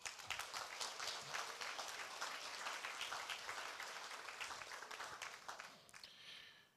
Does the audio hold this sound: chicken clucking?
no